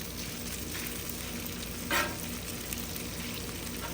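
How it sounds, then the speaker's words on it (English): Chopped meat for a chopped cheese sizzles steadily on a Loco griddle set around 350 degrees, a soft continuous frying hiss with a brief louder flare near the middle. "while this meat is finishing up, griddle top, by the way, where the meat is running about 350 degrees"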